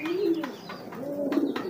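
A domestic pigeon in a breeding loft with regularly laying birds gives soft, low rolling coos in two drawn-out phrases, close and fairly steady, with no talking over it.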